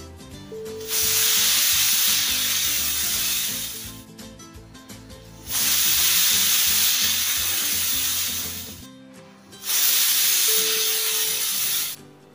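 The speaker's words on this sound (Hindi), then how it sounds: "कुकर का ढक्कन बंद कर देंगे और इसे 3 सीटी आने तक हाई फ्लेम पर पका लेंगे।" A pressure cooker of beetroot, carrot and tomato soup on high flame lets off three loud hissing whistle bursts of steam, each a few seconds long, separated by quieter pauses.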